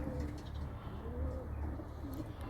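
Soft, low pigeon cooing repeats steadily, with faint chirps in the background and no talking.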